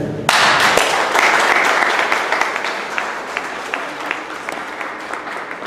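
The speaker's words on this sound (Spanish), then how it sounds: "Fuerte el aplauso para el señor Alexander Torres Guamán" At a community talk on mudslides in Chosica, an audience breaks into sudden loud applause for their district governor, individual claps audible in the mix, then gradually thins and fades toward the end.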